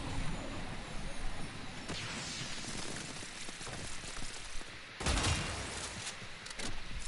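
Arca Plasmor plasma weapon firing in Warframe, heard as a dense, continuous burst of blasts and rattling shots, with a sharp, louder surge of fire about two-thirds of the way through.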